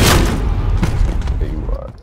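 In a Modern Warfare video game match, a loud boom opens the moment, followed by scattered short thuds and shots that fade over about two seconds.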